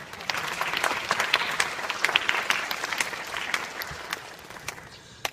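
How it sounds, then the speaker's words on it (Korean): A lecture audience at a university special talk on laughter applauds for about five seconds, a dense, steady patter of many hands in a hall that eases slightly toward the end. "여러분, 강사가 물 먹을 때 박수 쳐주는 것 대단히 교양 있는 행위입니다."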